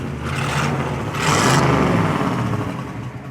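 A 1957 Ford Thunderbird with dual exhaust idles nearby in a low, steady burble that swells briefly partway through before easing back.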